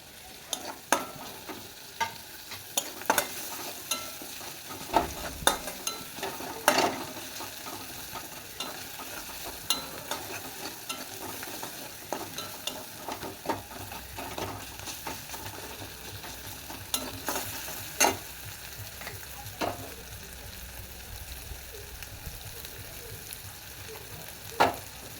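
Chopped tomato stirred into a frying spice mix for dal, with a steady background sizzle broken by repeated scraping clicks of the spoon against the pan throughout, close and moderately loud, with no talking.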